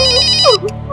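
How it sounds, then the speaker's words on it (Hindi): A phone ringtone plays loud and close, a bright repeating electronic melody of warbling tones over a steady hum, cutting off just before the end. "अरे सही मौके पे फोन आया जी आपका"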